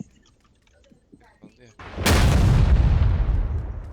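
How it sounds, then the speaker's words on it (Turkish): A C4 explosive blasts in PUBG with a sudden, loud, close boom that rolls into a long rumbling decay, after a few quiet taps and soft sounds. "C4 attı salak. C4 C4 var."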